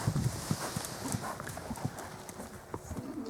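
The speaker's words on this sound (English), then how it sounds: "tip him into the fence and canter him off the other way" Horse cantering during a training session, hooves drumming in a steady rhythmic clip-clop at moderate distance, outdoors, with faint background noise.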